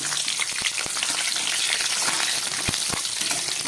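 Cauliflower pieces fry in hot mustard oil in a wok, a loud continuous crackling sizzle with scattered sharp pops and clicks of stirring, no speech.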